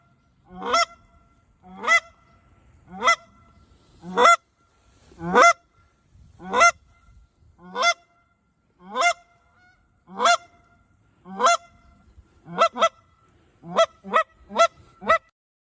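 Geese honking on a hunt, a series of about fourteen loud, clear honks at regular intervals, speeding up toward the end, heard alone against a quiet background.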